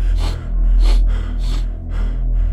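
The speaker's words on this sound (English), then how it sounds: "Mouth breathing." Heavy mouth breathing from the horror game Excuse Me Sir, several loud, close gasping breaths in a steady rhythm over a low droning background.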